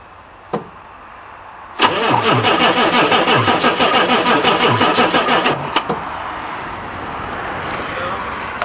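A diesel one-ton dually truck cranks with a rapid, rhythmic starter churn for about four seconds, then catches and settles into a steady idle. A brief voice is heard near the start.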